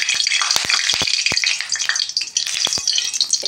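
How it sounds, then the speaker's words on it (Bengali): Fish fries in hot oil with a loud, dense crackling sizzle. Sharp pops and spatters break through it at irregular moments, close by and with no talk. "এবার বসিয়ে দিচ্ছি মাছ ভাজতে। তেল গরম হয়ে গেছে"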